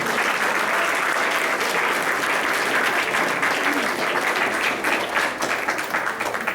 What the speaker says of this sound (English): One more round of applause for this entire group.